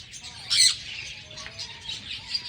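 Bird calls nearby outdoors: a sudden bright squawk-like chirp early on, then softer scattered tweets over faint background noise.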